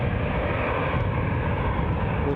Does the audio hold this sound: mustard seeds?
no